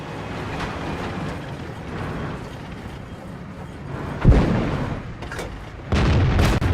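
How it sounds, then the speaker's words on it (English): Tank cannon fire in a video game: a heavy boom lands near the four-second mark and a second thump follows near six seconds, over low mechanical rumble and scattered distant shots. "Put a second shot into his front, but unfortunately I hit his gun."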